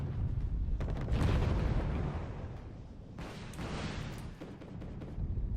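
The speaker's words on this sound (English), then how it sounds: "the airstrike, destroying these tanks" An airstrike in the Wargame: Red Dragon video game blasts tanks, heard as loud, continuous rumbling explosions and booming bursts that roll on without a break.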